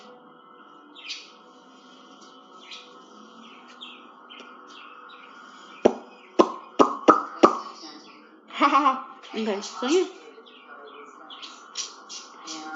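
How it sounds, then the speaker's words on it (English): Birds chirp nearby in scattered short tweets, with a few sharp clicks and a person laughing and speaking briefly in between. "And we have some birds."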